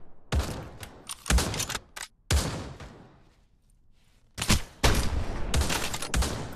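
Gunshots in the virtual reality shooter Pavlov VR: several sharp, loud reports and short bursts of rifle fire in quick clusters, separated by brief quiet gaps.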